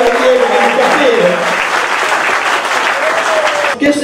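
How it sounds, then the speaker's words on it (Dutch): A crowd at a youth carnival prince election applauds loudly with steady, dense clapping, while cheering voices rise over the clapping. "Applaus voor Shannon, Ronnie en Scott en de kamperen."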